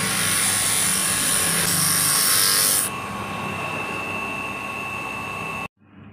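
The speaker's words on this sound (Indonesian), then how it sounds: "Kemudian kita amplas ya, kembali kita amplas bagian kulit dan luarnya." A power tool whirs in a steady high-pitched drone while sanding a coconut shell ring, easing to a lower hum partway through before stopping abruptly.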